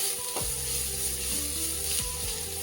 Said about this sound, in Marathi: याच्यामध्ये व्यवस्थित फ्राय करून घ्यायची आहे. असं व्यवस्थित भाजून घ्यायचं